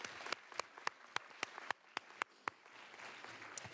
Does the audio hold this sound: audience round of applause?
yes